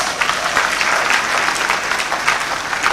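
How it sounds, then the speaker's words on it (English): Graduates at a morning congregation ceremony of a school of graduate studies burst into sustained applause, a dense, even crowd clapping that holds steady throughout. "give yourselves a round of applause"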